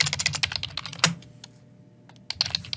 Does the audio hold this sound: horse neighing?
no